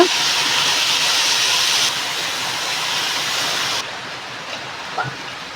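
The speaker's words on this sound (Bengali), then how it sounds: "এখন আমি পানি দিয়ে দেবো" A steady loud hiss and rushing wash as water is poured onto rice frying in a hot pot for beef biryani, drops in level twice and settles into a softer simmering hiss.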